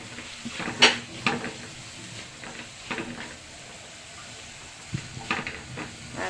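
Vegetable egg fried rice being stirred in a hot pan over high heat, with soft sizzling and intermittent scrapes and clinks of the utensil against the pan, close and moderately quiet.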